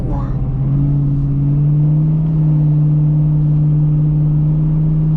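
A cammed New Edge Ford Mustang accelerates hard on an interstate, its engine droning loud and close in a smooth rising pull with a steady rumbling tone throughout.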